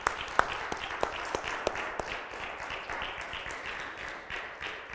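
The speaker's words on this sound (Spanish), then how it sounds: "Démosle un aplauso al Rey de Reyes" Church congregation applauding in praise of God, a dense wash of clapping with a few sharper nearby claps standing out, steady through the stretch and fading slightly toward the end.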